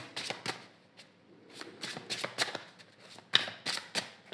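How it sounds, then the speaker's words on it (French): Tarot cards being cut and shuffled by hand, a close series of crisp riffling bursts and soft slaps in an irregular rhythm, with quiet pauses between bursts. "je vais faire une coupe et je vais prendre 3 cartes"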